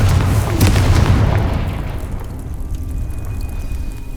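A Confringo fire spell explodes in Hogwarts Legacy with a loud, close boom that rolls into a long rumbling decay and fades into quiet game ambience.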